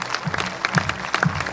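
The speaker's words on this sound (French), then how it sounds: "Un tonnerre d'applaudissements pour Daniel Herrero." An audience at a regional business conference for small firms applauds Daniel Herrero. The burst of clapping is brief and fairly loud, with a crowd murmur mixed in.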